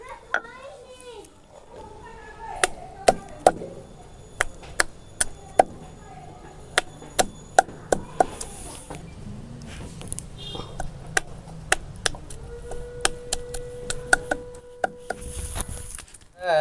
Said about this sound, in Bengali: শিলনোড়াতে এবার কুলগুলোকে ছেঁচে নেব